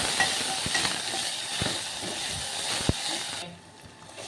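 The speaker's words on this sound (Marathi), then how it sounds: "हा बनवलेला ठेचा आहे तो टाकला आहे तर लसणाचा कच्चा वास जायपर्यंत आपल्याला तेलामध्ये छान परतून घ्यायचं आहे" Crushed garlic and chilli thecha sizzles steadily as it is sautéed in hot oil, a continuous close hiss with a few light spatters and taps of the spoon, fading out near the end.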